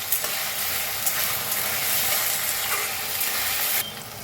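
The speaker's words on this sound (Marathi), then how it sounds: "मिक्स करून भाजून घेऊया." Tomatoes salted and stirred in a hot pan for street-style bhurji give a steady loud sizzle and frying hiss with soft scraping stirs, cutting off abruptly near the end.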